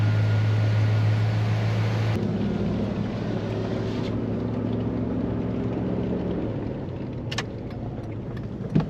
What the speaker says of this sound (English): So go ahead and fire it up, take it for a road test.